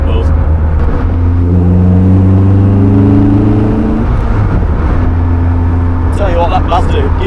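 A Caterham Seven with a Duratec engine and Mazda gearbox pulls hard in gear, its engine droning loudly and rising in pitch inside the car while someone talks over it.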